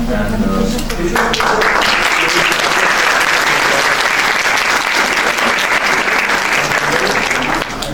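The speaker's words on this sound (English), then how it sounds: "I hope that these are not the official claps" Dense, loud applause from an audience at an academic lecture, continuous clapping filling the room for about eight seconds, with a brief voice at the very start.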